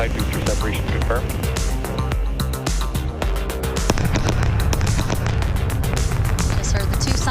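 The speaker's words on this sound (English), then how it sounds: "Just heard the 2 sonic booms here in the room." Two simulated sonic booms from a returning Starship booster in Kerbal Space Program, sharp cracking bursts over a dense, loud bed of rumbling game audio and webcast commentary, with a crackling, fireworks-like texture.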